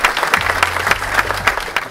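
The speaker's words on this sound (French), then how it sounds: "je voudrais qu'on les applaudisse également pour ça" Applause from an audience at an evening awards event in the Pays de Grasse honoring young entrepreneurs, a loud, lively patter of many hands with a low hum running underneath.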